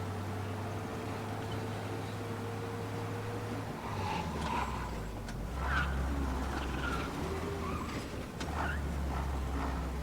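Car engine in Mafia: Definitive Edition revving up under acceleration, a steady low drone that swells midway, with faint clatter and road noise over it.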